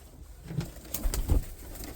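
Domestic pigeons in a loft give a few soft coos with brief fluttering bursts, close by and fairly quiet, with no talking.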